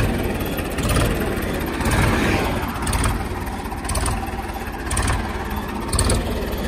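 A Ford 3600 tractor engine runs steadily and loudly up close, a continuous diesel drone with gentle rhythmic surges about once a second, no talk over it.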